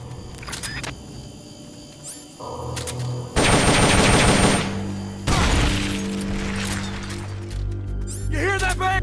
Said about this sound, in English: We're being shot at!